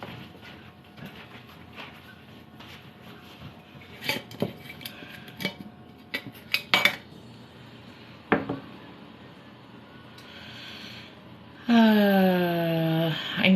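Kitchen rummaging among dishes and cutlery while hunting for a lid: scattered clinks, knocks and rattles of utensils and pots, ending in a sustained ringing, scraping tone near the end.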